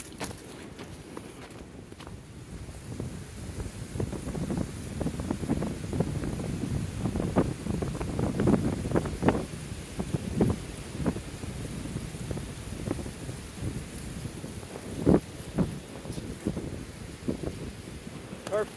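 Wind blows outdoors in freezing temperatures around a survival shelter: a steady rushing roar with gusting microphone buffeting, mixed with scattered crunching footsteps and handling knocks, fairly close and without talk.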